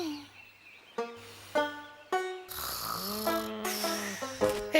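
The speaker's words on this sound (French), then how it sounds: "Hé, la vache, tu ronfles." Slow snoring breaths repeating about every second, low rasping tones with a whistling edge, close by and steady.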